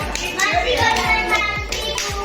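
A small group of children clapping for a classmate in a classroom, a short burst of quick, uneven hand claps close by, with a teacher's voice faintly under it.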